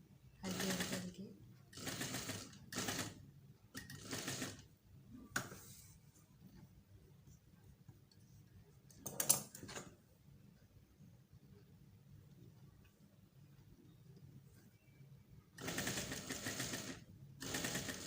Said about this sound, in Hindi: अब बिल्कुल फ्यूजिंग के साथ साथ स्टिचिंग करनी है हल्के हल्के हल्के।